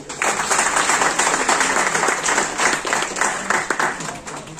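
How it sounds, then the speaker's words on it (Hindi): Loud, dense applause from a seminar audience at a leadership development program in Nepal, steady clapping sustained throughout without a break. "चलिए एक बार अपने लिए जोरदार ताली हो।"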